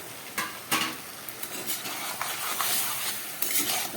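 Lightly boiled Malabar spinach added to a pan of fish head curry and stirred in, with close scraping of a utensil, a few sharp clinks against the pan and a soft sizzle underneath, no talk.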